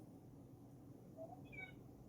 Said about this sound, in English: What's up with Scrubble Cat?